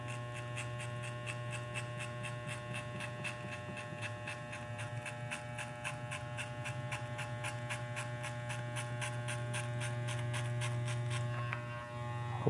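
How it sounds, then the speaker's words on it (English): Electric hair trimmer running steadily through a curly-hair fade and beard trim, a constant electric buzz with a strong low hum, held close and unbroken throughout, no talking. "I'm gonna go at the end and just clean that up with the trimmer itself."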